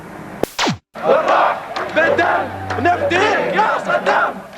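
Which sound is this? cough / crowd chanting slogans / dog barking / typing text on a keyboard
crowd chanting slogans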